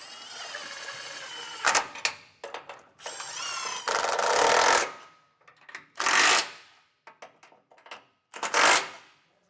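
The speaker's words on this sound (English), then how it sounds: "Now we'll take that 16mm socket and snug these back up." A 16mm socket tool snugs up factory anti-sway bar hardware on a 2011 Ford F-150, in several short loud bursts separated by pauses and clicks.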